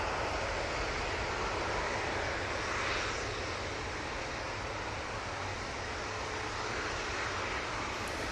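An EasyJet Airbus A320 at Manchester Airport produces a steady, distant jet roar with a broad rushing hiss that holds fairly even throughout, with no voices.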